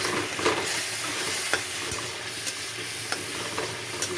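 Spices with coriander powder, chilli powder and roasted small chillies frying in a pan, a constant hissing sizzle with repeated scraping strokes of a spoon stirring at an uneven rhythm.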